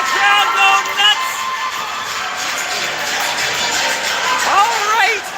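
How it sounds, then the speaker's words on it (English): A hockey arena crowd roars and cheers after a goal in a Romans versus Blues game, a dense sustained wash of voices and whistles with a commentator talking over it. "You can hear the crowd go nuts."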